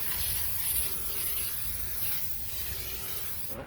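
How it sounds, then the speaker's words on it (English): A steady, continuous disinfectant aerosol spray hisses for several seconds at close range inside a car, holding an even loudness before cutting off at the end. "this spray is just to kill anything that's actually out there"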